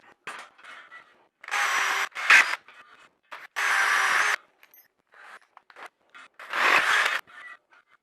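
Drilling out a 9mm rim lock hole in a motorcycle rim, heard as short, gritty bursts of bit-on-metal grinding in several separate spurts, close and moderately loud, with small scrapes between them.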